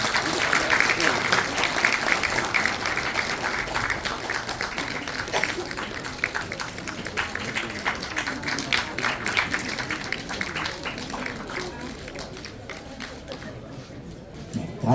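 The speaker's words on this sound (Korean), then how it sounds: "큰 박수 부탁드리겠습니다" A wedding crowd applauds steadily and loudly throughout, dense clapping that thins slightly toward the end, with some voices mixed in.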